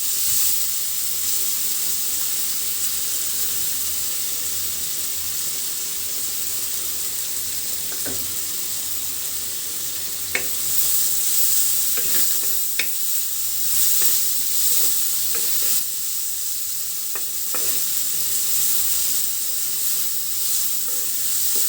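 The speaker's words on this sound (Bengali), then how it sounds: "পেঁয়াজটা একেবারে নরম করে ভাজি করে নিব।" Chopped onions frying in oil in a pan, a steady broad sizzle running throughout with occasional faint clicks of a spatula, close and fairly loud, no talking.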